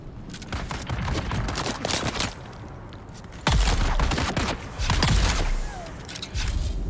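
Rapid bursts of weapon fire in Dune: Awakening, loud sharp volleys in several clusters separated by brief pauses, layered over game ambience.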